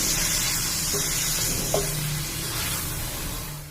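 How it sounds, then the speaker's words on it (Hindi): Minced meat keema is fried with ginger, garlic and onion, giving a soft, steady sizzle with a faint hum and a couple of light clinks, no talking. "कीमे को भून लेते हैं, इसका कलर चेंज होने तक इतना हमें भूनना है कीमे को"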